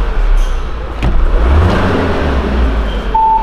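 Volkswagen Jetta TSI engine running and revving up close, a steady low rumble that swells slightly in the middle and holds loud throughout without any talk.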